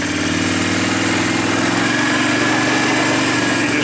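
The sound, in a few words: Can-Am 500 HO EFI ATV engine riding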